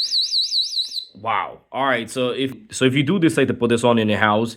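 A ZNYSMART pepper gel spray device blasts a loud, piercing warbling alarm siren, sweeping up and down in pitch for about a second before a person starts talking over the continuing sound.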